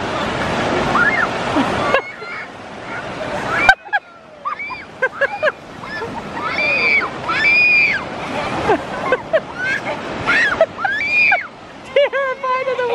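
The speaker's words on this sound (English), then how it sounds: "Terrified of the waves." Ocean waves on a beach slosh and wash in and out, while children's high-pitched voices and cries ring out close by over the surf.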